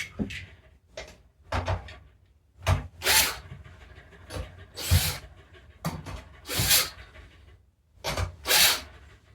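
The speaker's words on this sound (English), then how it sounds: "just a quick shot with the drill" A power drill works on drum kit hardware during a drumhead swap, giving repeated short bursts of whirring and grinding, close and fairly loud, separated by brief pauses and handling clatter.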